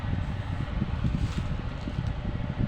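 Outdoor wind near an airport in Butuan, with leaves moving, gives a steady low rumble and rustle that stays fairly loud and continuous throughout, with no speech.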